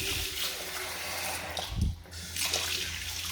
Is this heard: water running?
yes